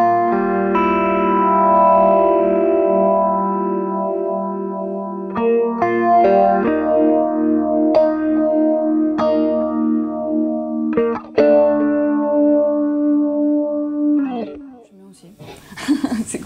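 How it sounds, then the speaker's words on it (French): Electric guitar through a phaser effect in a classic rock lead style: sustained chords and single notes with a sweeping, swirling tone, loud and close, ending in a burst of noise as the effect is adjusted. "Je sais même pas si je l'ai bien réglé le phaser"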